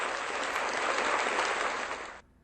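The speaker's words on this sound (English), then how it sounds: "Always a little bit of respect applause for the venerable gateway drug argument." An audience claps and applauds at an anti-legalization presentation, a steady dense burst of clapping lasting about two seconds before cutting off.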